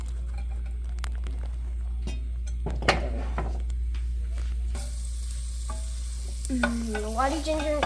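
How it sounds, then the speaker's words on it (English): Ginger and garlic sizzle in a hot pan while being stirred for wonton ramen, a soft frying hiss with scraping clicks of a utensil, over a steady low hum, with a brief squeaky whine near the end. "now we're gonna be sauteing a little bit of ginger."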